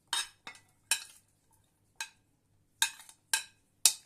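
Chopped onion is stirred into chicken mince in a bowl. A spoon scrapes and clinks against the bowl in about seven short, close strokes with brief pauses between them, and no voices are heard.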